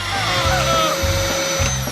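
A vacuum cleaner runs with a loud, steady motor whine and airflow roar, close by and continuous throughout, with a voice faintly present underneath.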